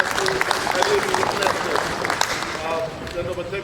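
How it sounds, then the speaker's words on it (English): A crowd at a sports ministry event applauds for visiting sports federations, a loud, continuous wash of clapping with voices and cheers mixed in. "let's give them a round of applause for being here present with us"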